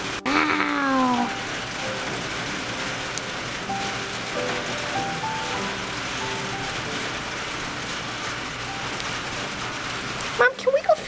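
Rain during a thunderstorm falls as a steady hiss heard from indoors, with a voice briefly over it at the start and again at the end.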